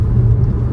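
2022 Dodge Challenger GT engine and exhaust, a steady, deep, loud rumble heard from inside or near the car with a constant low drone and no talking.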